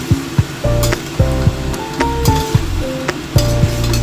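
Zucchini and pork stir fry thickened with cornstarch is stirred in a pan, with a steady sizzle under repeated sharp clinks and scrapes of the utensil against the pan, close and fairly loud.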